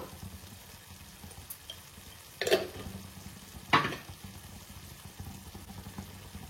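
Paneer curry masala fries quietly in a pan, a faint low sizzle with two distinct scraping stirs of a spoon against the metal, one after the other.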